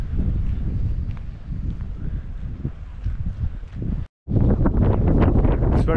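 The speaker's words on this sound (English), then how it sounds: "It's very windy here." Strong wind buffets the microphone at a rocky seaside park in Malmö, Sweden, a loud, continuous low roar with gusty surges and a brief dropout near the end.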